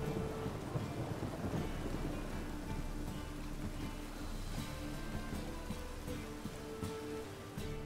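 Steady rain falls during a thunderstorm in The Witcher 3 video game, with low rumbles of thunder rolling underneath. The wash of sound stays constant and fairly quiet from start to finish, and nobody speaks.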